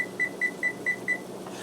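A kitchen timer being set for pasta gives five short, evenly spaced electronic beeps, each about a fifth of a second apart, clear and close over faint room noise.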